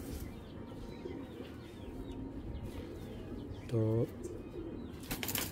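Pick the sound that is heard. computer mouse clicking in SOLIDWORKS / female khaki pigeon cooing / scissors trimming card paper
female khaki pigeon cooing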